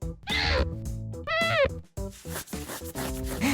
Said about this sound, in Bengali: কি সুন্দর বিড়াল।